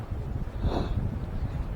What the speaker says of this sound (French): il y a un vent assez frais là, très glacial qui s'est levé